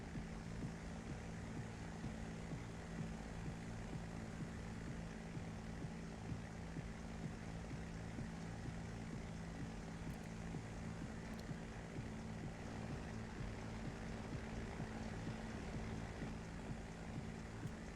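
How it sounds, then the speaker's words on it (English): Steady droning aircraft engine of a WWI-era propeller plane in a flight sim game, a constant low harmonic hum holding at even loudness throughout with no talk. "I think I hear an engine sound"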